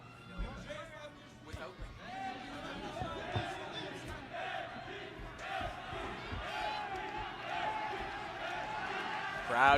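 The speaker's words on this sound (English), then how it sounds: "Crowd getting a little bit more vocal" Boxing match crowd in an arena in Nagoya, a broad murmur of many voices rising in volume with scattered shouts, while a commentator talks over it.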